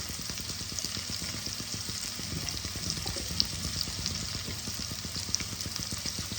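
Onions sizzle steadily in oil in a pan for a Bengali fish curry, a close, continuous crackling frying sound with faint stirring scrapes and no talking.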